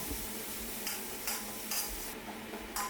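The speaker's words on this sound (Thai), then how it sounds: "ผัดพริกกระเทียมให้เหลืองหอมก่อนครับ" Chili and garlic stir-frying in hot oil in a pan for Thai basil stir-fry, a steady soft sizzle with several scraping spatula strokes at regular intervals, close and fairly quiet.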